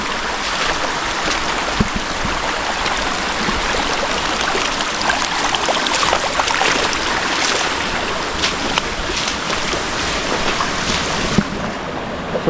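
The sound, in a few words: creek water flowing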